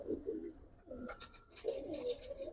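Giribaz pigeons in a loft give soft low coos in a few short bursts, faint and close, with some quieter higher chirps mixed in.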